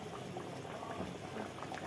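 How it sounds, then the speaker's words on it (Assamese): Fish curry made with water bubbles at a steady boil in a pot, a dense continuous burble close by with no talk over it. "আঞ্জাটোত পানী দিয়াৰ পিছত উতলি আছে"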